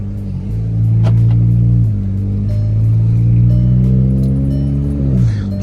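A Volkswagen car pulls away and is driven, its engine rising and falling in pitch through a few short accelerations. The sound is close, steady and loud, with no talk over it.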